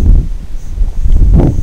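Steady wind buffeting close to the microphone, a low rumbling roar with gusts that swell and fade, no voices.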